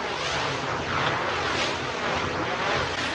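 A wind turbine recording, heavily processed and pitched down one octave, forms a steady, dense, droning roar with slow sweeping swells, loud and alone throughout.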